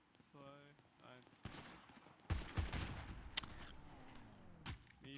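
Bursts of gunfire in a GTA roleplay gang-war game, several sharp shots and a rattling volley, heard at moderate level with German-speaking voices talking over them.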